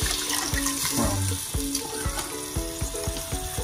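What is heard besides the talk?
pouring chicken broth and water into pot of collard greens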